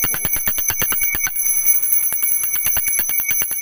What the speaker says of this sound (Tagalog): magpatunog po kayo ng ating mga singing bowl, tsaka ito pong bell